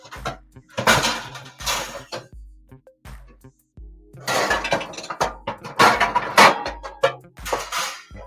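Metal pots and pans are pulled out of a home oven in loud, close bursts of clattering and clanging, separated by brief pauses.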